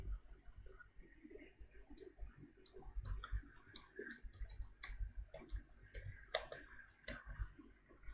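Quiet, close mouse clicks at a computer desk during a Visual Studio 2019 sign-in, a series of small sharp ticks scattered over several seconds above a low background hum.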